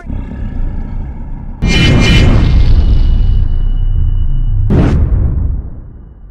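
Two loud booming blasts in the video game Free Fire, the first long and rumbling, the second sharper, each followed by a fading roar.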